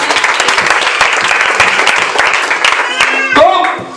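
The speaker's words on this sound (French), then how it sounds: "Il faut acclamer le Seigneur." A church congregation applauds loudly, with dense and steady clapping that carries on throughout and starts to fade near the end as a tone and voices come in.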